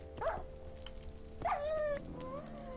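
A dog in the Minecraft video game gives two short, high yelps or whimpers about a second apart, fairly close, over a low steady game background with no talking.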